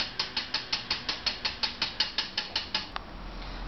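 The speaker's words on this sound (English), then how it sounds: "put your whisk in a circular motion to get the most air into your egg white" A wire whisk beats egg whites by hand in a bowl, making about fourteen quick, evenly spaced ticking strokes against the bowl in a brisk rhythm, close and clear with no talking.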